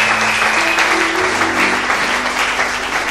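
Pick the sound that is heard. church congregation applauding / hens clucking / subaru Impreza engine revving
church congregation applauding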